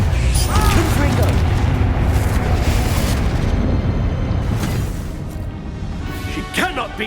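In Hogwarts Legacy, a Confringo blasting spell explodes as a loud, dense rumbling burst that holds for several seconds, then tails off under the game's sound effects, with a voice calling out briefly.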